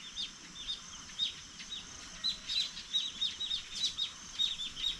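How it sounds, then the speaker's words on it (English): A flock of yellow weaver birds chirps in a tree, high bright tweets repeating in quick irregular bursts over a low rustling background, moderately close and steady, with no voices. "these yellow birds, the ones that fly together and they fly super fast. The weaver birds"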